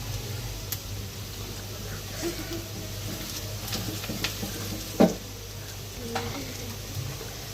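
Onions with turmeric sautéed in a pan, with a low continuous sizzle and a few scattered stirring scrapes, plus one sharper clink of utensil on pan midway, close and quiet.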